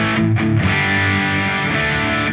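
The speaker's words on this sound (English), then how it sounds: "Marshall 900 based on the JCM 900" A Hotone Ampero Mini running a Marshall JCM 900 amp model rings out with a sustained distorted electric guitar chord after a quick strum, loud and close.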